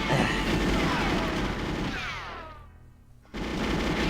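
Dense automatic gunfire in the Goldeneye 007 video game, a loud, continuous rattle of rapid shots that cuts off abruptly near the end before the game sound resumes.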